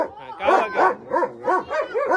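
German Shepherd barking in a series of about five loud, close barks with whimpering, yipping edges, spaced roughly every third of a second.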